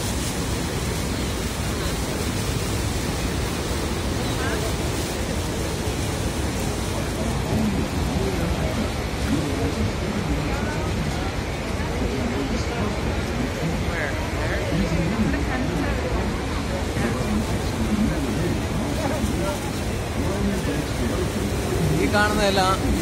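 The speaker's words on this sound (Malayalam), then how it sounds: "ഈ വെള്ളച്ചാട്ടത്തിന്റെ ഈർപ്പം വന്ന് തെറിച്ച് വീഴുന്നുണ്ട്" Niagara Falls roars as a steady, dense wash of thundering water, with fine spray drifting down like drizzle, loud and unbroken throughout while voices murmur faintly beneath.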